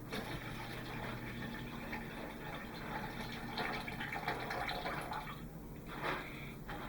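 Water poured steadily into a drink mixture in a kitchen, a continuous splashing, trickling fill at close range with faint dripping and no talking.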